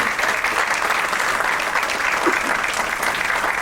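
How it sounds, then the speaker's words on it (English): Audience at the trailer launch of the film 800, with Sachin Tendulkar present, gives a loud, sustained round of applause, dense steady clapping from start to finish without talk over it. "A big round of applause, ladies and gentlemen."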